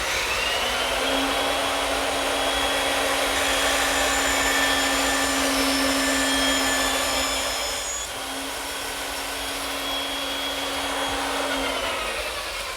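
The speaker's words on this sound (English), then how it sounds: "use this hand to guide it through the saw." A table saw or bandsaw runs steadily as a wooden shelf blank for a hanging corner cupboard is guided through it, a loud continuous motor whine with a brief dip near the end and no talk.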